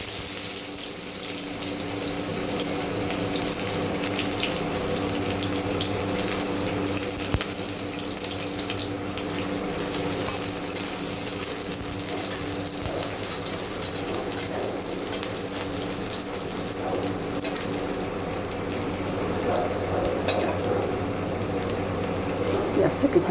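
Chopped onion sizzles in hot oil in a pan for okra curry, a dense, steady hiss of frying with occasional stirring clatter, close and continuous throughout.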